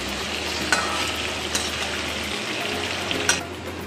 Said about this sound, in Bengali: আমি ওল আর আলুটা 2 মিনিট এইভাবে ভেজে নেব।